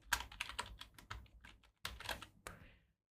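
Rapid keystrokes on a computer keyboard come close and crisp in uneven bursts, with a short pause before a final flurry of typing.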